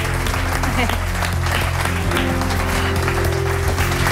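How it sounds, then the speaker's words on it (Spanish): A studio audience applauds in a loud, dense, sustained burst of clapping during a talk show segment, with voices partly mixed in. "Un aplauso para ella."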